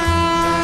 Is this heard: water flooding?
no